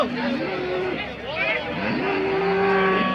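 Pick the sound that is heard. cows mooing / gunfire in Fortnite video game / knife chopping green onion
cows mooing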